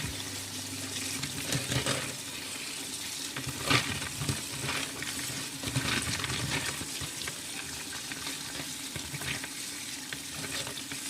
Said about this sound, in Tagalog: kailangan natin hugasan yung ating mga sangkap